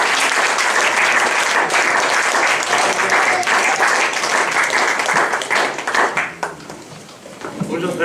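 A church congregation applauds to welcome a preacher at a Sunday service, loud sustained clapping filling the hall before it thins and fades near the end, with some voices underneath.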